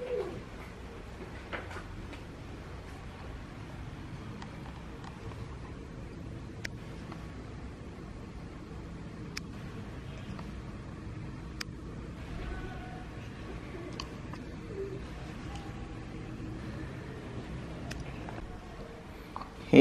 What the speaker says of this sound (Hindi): बालकनी में हमारे रोज कबूतर आके यहाँ पे आवाज करते रहते हैं।